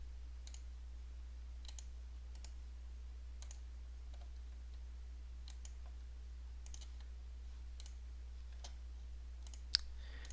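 Sharp, quiet clicks of a computer mouse at a desk, spaced irregularly about a second apart over a low steady hum, with no talking.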